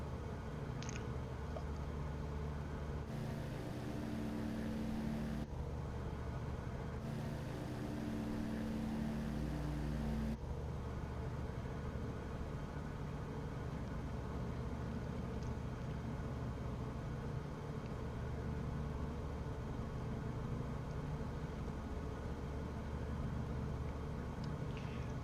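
Aircraft piston engine held at full power in Microsoft Flight Simulator, a steady, dense, unbroken roar at 47 inches of manifold pressure and 5400 RPM, with no talk over it.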